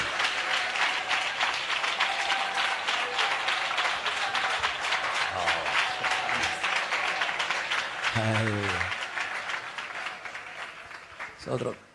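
A church congregation clapping hands together during worship, a dense continuous wash of applause under a preacher's loud voice, fading out near the end.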